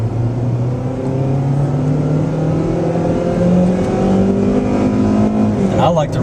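A 2012 Kia Rio 5-door accelerates hard up the on-ramp onto the I-65 North freeway, its engine droning and steadily rising in pitch, close and loud, with someone talking over it.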